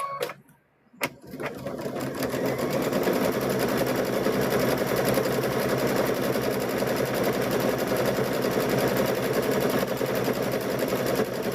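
Sewing machine running across the top seam of a stuffed bear, starting after a short quiet gap with a few clicks, then a long, even, close mechanical hum and rattle to the end.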